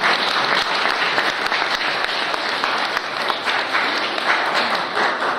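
A crowd at a cycling club evening gathering applauds volunteers loudly and steadily, a dense, sustained wash of clapping.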